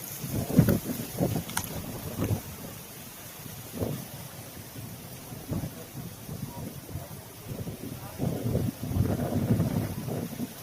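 Steady outdoor wind in a cornfield buffets the microphone in gusty, low rumbling bursts, with a few faint voices in the background.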